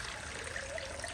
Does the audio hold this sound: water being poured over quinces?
yes